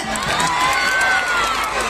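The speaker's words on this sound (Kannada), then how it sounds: "ಬರ್ಲಿ ಹೆಣ್ಮಕ್ಳು ಒಂದ್ಸತಿ ಜೋರಾದ ಚಪ್ಪಾಳೆ" Crowd cheering and shouting at an outdoor festival stage show, a dense roar of many voices with whoops rising over it, steady and loud for a couple of seconds.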